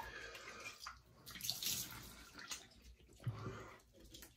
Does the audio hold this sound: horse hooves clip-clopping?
no